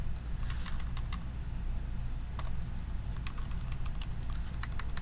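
Typing on a computer keyboard while setting up software on a Raspberry Pi 4B, with quick irregular key clicks in bursts over a constant low background hum.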